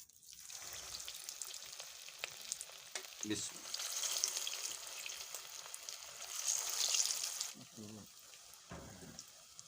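Chicken and mixed vegetable pakoras frying in hot oil, a steady crackling sizzle throughout that swells and fades, with occasional stirring clatters and a voice speaking quietly over it.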